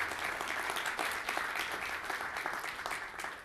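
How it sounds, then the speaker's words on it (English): Round of audience applause at a Rotary performing arts competition, honoring the finalist judges; dense, even clapping from a crowd, moderately loud and sustained throughout without talk. "Please give them a round of applause"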